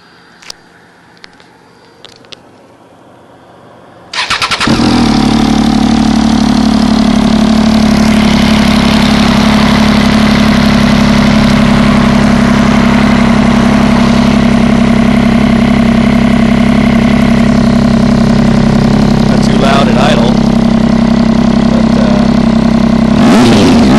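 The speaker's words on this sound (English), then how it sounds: "I'm going to fire it up. You guys can see what these exhaust cans sound like." A motorcycle with aftermarket exhaust cans starts with a sudden loud roar after a few quiet seconds, then settles into a steady, close, deep idle with occasional swells of revving.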